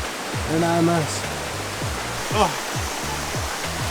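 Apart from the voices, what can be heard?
Cupatitzio river water flowing over stones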